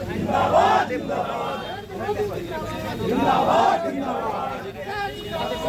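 A large crowd of supporters cheers and chants in rising and falling waves, with rhythmic group shouts and background babble outdoors at a welcome rally for a minister in Patepur.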